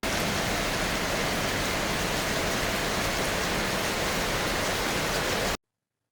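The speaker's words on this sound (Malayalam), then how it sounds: "ഇന്നിവിടെ ഭയങ്കര മഴയാട്ടോ" Heavy rain pours down outside in a dense, steady roar that stays loud and unbroken for over five seconds before cutting off abruptly to silence.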